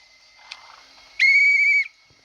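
A single sharp, shrill whistle blast of about half a second sounds loud and close in a PUBG match, standing out against quiet ambient game noise.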